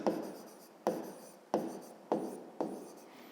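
Pen or chalk strokes as math notes are written by hand for a fifth-grade geometry exercise, five evenly spaced scratchy strokes, close and clear, with no voice.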